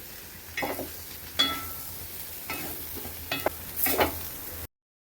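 Drumsticks (moringa pods) and egg fry in a pan while being stirred, giving a soft steady sizzle broken by several scraping stirs and clatters, close and without talk, ending abruptly.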